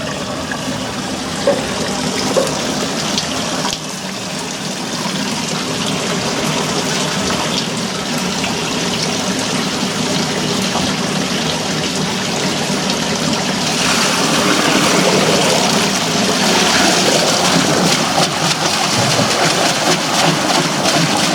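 Water surges through an opened waterwheel gate as a steady broadband rush, loud and continuous, swelling noticeably stronger partway through with no voices over it.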